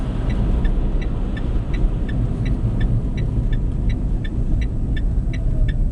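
A Peugeot iOn electric car rolls along with steady, low road and tyre rumble while a faint ticking, like a turn signal, clicks in a regular rhythm as it pulls over.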